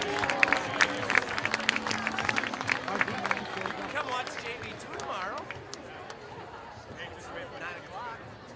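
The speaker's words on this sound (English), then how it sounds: "How about a round of applause then for the soccer team?" A stadium crowd applauds the soccer team before kickoff, dense clapping at first that gradually thins into scattered claps and crowd chatter.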